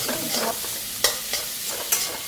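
Leftover boiled rice being fried into bhaat bhaja sizzles steadily in a pan, broken by several scraping stirs of the spatula at close range.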